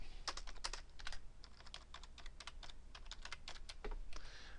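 Typing on a computer keyboard, quick irregular bursts of crisp key clicks with short pauses, close and fairly quiet, no voices.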